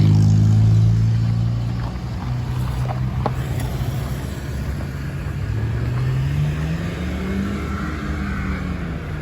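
Street traffic in Bali, Indonesia: a steady low rumble of passing cars and motorbikes, loudest at the start, with engines rising and fading as vehicles go by close to the microphone.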